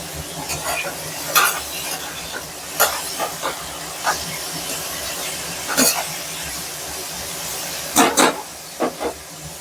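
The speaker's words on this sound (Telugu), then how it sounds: "నేనైతే కొంచెం మీడియం ఫ్లేమ్లో ఫైవ్ మినిట్స్ వరకు బ్రౌన్ కలర్ వచ్చే వరకు ఫ్రై చేసుకున్నాను" Potatoes frying in a pan over a medium flame, a steady sizzle broken by repeated scraping stirs and occasional louder clatters, close and alone without talk.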